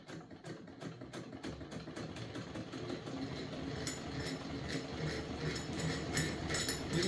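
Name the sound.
hand-cranked Singer 99 sewing machine stitching fabric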